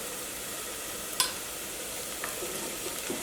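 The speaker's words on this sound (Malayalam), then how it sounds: "അപ്പോൾ സവോളയ്ക്കും ചെറുതായിട്ടൊന്ന് മുരിഞ്ഞു തുടങ്ങിയിട്ടുണ്ട്" Onions with turmeric powder frying in coconut oil for a vegetable curry give a steady, even sizzle, with one sharp stirring clink near the start and a few faint scrapes after it. No one speaks.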